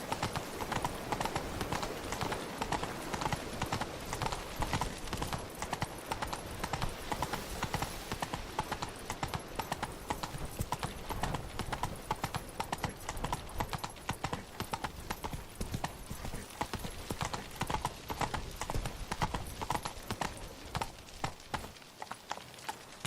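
Horse hooves clop steadily and loudly while riding in The Witcher 3, a continuous galloping rhythm with a brief whinny-like texture, running nearly the whole time before dropping off at the end.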